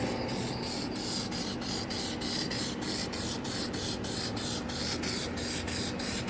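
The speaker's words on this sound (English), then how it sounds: "take your adhesion promoter right here and spray it" A spray can mists adhesion promoter onto plastic door sill plates of an OBS Chevy short bed truck, a continuous close hiss with a faint rhythmic pulsing, no voices present.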